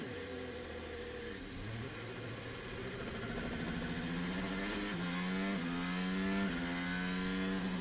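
A Formula 1 car accelerates away from a wet sprint race start at the Austrian Grand Prix, engine pitch climbing through rising gear sweeps, loud and sustained, with crowd and track noise underneath.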